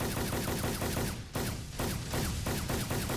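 A vehicle-mounted gun fires from the gunner seat in a military video game, a loud, close stream of rapid shots with only momentary breaks.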